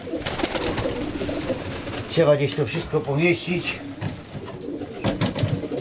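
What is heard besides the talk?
pigeons cooing in a loft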